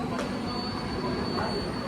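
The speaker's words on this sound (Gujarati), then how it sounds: "ટ્રેન આવી ગઈ છે" A train pulling into a station, a steady low rumble of rolling wagons with a thin high wheel squeal running through it, a continuous even drone.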